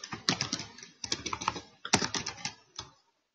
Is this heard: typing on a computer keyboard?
yes